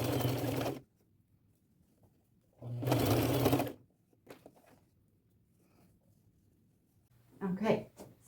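A sewing machine stitches lace onto a plain white shirt in two short close bursts of rapid whirring, with quiet handling noises between them and a brief murmur of voice near the end.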